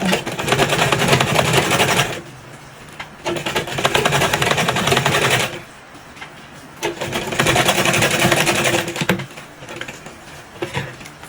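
A sewing machine stitches damask fabric for a ruffled turban, running in loud steady bursts of fast mechanical clatter broken by short pauses, with no talk.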